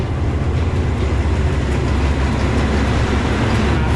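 A passenger train on the Bangkok line from Taling Chan toward Hua Lamphong rumbles steadily along the rails, a loud, continuous low roar with faint rattling, heard from close by with no voices.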